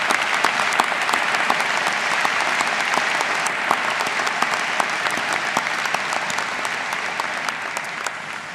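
An audience at a Butler University commencement ceremony applauds steadily for over eight seconds, a dense wash of many hands clapping with no voices standing out.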